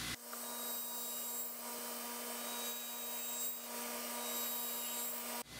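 A knife blade grinds against a spinning sharpening wheel on a sharpening system, giving a continuous close rasping hiss over a steady motor hum that stops abruptly at the end.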